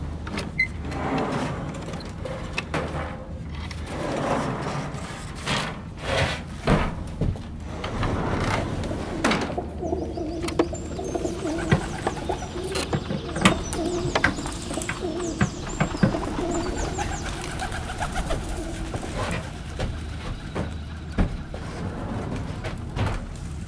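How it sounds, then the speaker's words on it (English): Birmingham Roller tumbling pigeons coo repeatedly at close range, with soft rolling calls, scattered flutters and knocks, and a low background hum running under the birds. "Jim Sherrill, tumbling pigeons in the black country."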